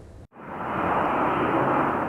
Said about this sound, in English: The sound of a plane taking off.